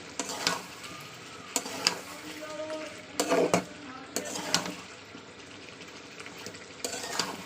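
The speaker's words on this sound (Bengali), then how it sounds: "তো আমি আরও একটু কষাবো যেহেতু আমার এখন একটু জল আছে" Chicken sautéed with masala in a pan with a little water for lemon chicken kosha, soft continuous sizzling punctuated by repeated spatula scrapes and knocks at close range.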